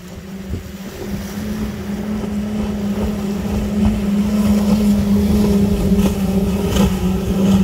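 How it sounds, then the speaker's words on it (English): A motorboat with five outboard engines drones steadily as it passes, the low hum growing louder over several seconds with wind buffeting the microphone. "Oh, we got a boat coming."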